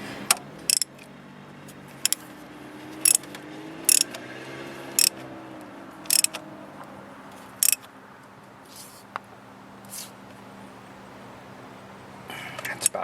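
A ratchet tightening a spark plug on a 2011 Nissan Altima 2.5 SL gives a series of short, sharp clicks spaced about a second apart, close to the microphone, over a low steady hum.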